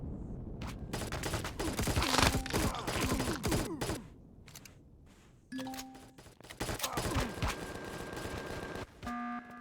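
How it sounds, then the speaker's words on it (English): A turret blazes away in the space game Empyrion Reforged Eden, dense bursts of rapid gunfire over a continuous roar, dipping briefly before resuming, with no talking. "Turret's active."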